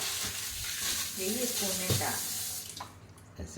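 Tea bubbling in a pot on the stove, a close watery simmer with hissing and gurgling, and a voice speaking briefly over it partway through.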